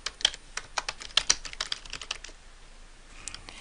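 Rapid clicking keystrokes on a computer keyboard, close and clear, in an uneven typing rhythm that slows and thins out toward the end, with no voices.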